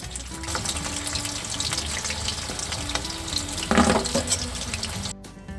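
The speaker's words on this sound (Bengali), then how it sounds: "প্রথম এক কড়া দেখো এখানে ভাজা হয়ে গেছে।" Pakoras deep-frying in a wok of oil in a rooftop kitchen, a dense bubbling, watery crackle that swells briefly midway, then drops away near the end, with no speech.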